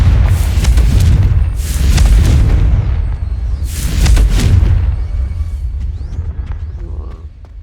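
Confringo fire spell explosions from the Hogwarts Legacy video game, several loud booming blasts in a row with rumbling tails, each burst followed by a quieter decay, no voices present.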